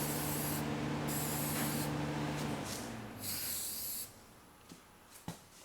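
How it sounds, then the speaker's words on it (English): Aerosol rust treatment sprayed onto car parts, several sharp hissing bursts from the can in short and longer pulses, with a heater humming in the background until it falls away, then a couple of faint knocks. "So I'm just going to spray this one for the heck of it."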